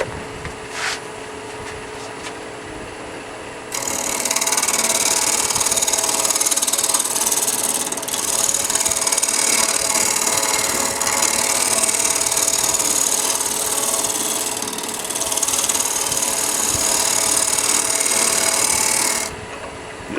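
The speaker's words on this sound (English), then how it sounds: "Lathe speed's about 1800." A wood lathe running at about 1800 rpm turns a strata bowl as a tool scrapes the surface, a quiet hum at first, then a loud steady hissing scrape for about fifteen seconds before easing off.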